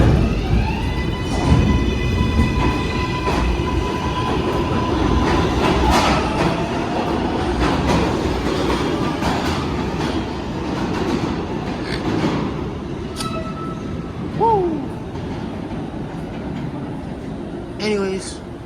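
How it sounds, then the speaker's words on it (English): New York City subway 7 line train sets running in Manhattan, a loud continuous rumble and clatter of wheels on rails with squealing tones, sustained throughout, with some faint talk underneath. "Look at these beautiful train sets running on the 7."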